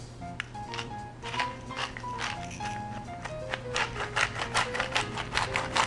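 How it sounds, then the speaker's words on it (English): A pepper mill grinding black pepper, a rapid run of close, gritty crunching twists that grows denser and louder toward the end over light background music. "And you know I like to grind the pepper."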